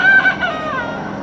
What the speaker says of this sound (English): That rooster sounds like he's dying.